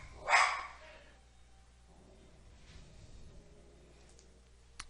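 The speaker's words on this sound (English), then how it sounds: "My dog is having a little fit in the background" A dog gives a sharp bark at the start, fairly close and loud, then the room stays quiet with a faint click near the end.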